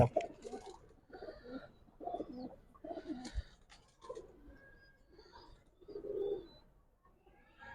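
Pet pigeons in a loft make soft, repeated cooing calls in short bursts, fairly quiet and close by, with no talking.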